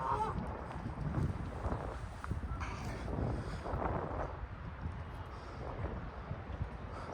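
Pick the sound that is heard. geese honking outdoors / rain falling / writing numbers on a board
geese honking outdoors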